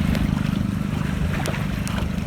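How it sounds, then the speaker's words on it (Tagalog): Strong typhoon wind in a coastal fishing area of Hagonoy, Bulacan, a loud continuous roar and buffeting against the microphone with low rumbling gusts, steady across the whole moment and free of talk. "Lakas pa rin ang hangin oh."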